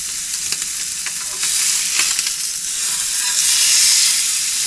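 Steak frying in a pan at a woodland campsite, a loud close sizzle with steady spitting and hissing that swells slightly partway through.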